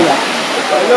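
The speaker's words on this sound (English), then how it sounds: "Waterfall number two." Kuyawyaw waterfall near El Nido on Palawan rushes in a steady, dense roar of falling water, close and loud throughout, with voices faintly mixed in.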